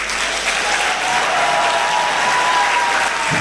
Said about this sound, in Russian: свистом, улюлюканьем, топанием ногами в пол, хлопанием одной ладошки об другую вы приветствовали начало нашего